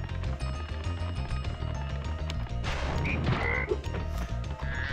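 Frogs croak throughout a jungle stage of Spyro 2: Ripto's Rage, layered with ambient jungle noises and sharp game hits, steady and close.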